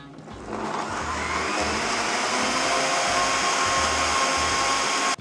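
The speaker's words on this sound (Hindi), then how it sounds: "अब इन तीनों चीजों को साथ में ब्लेंड कर लेंगे to form a nice smooth puree" Avocado puree with condensed milk and regular milk whirs in a blender, a loud steady motor drone that starts after a brief pause and runs continuously to the end.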